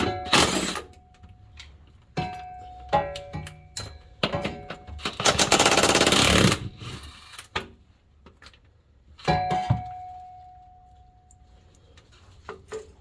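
Pneumatic impact wrench rattling off transmission mount bolts on an LS-swapped Z31 300ZX: loud, sharp hammering bursts of varying length, one sustained burst of a few seconds, separated by quiet pauses and clanks.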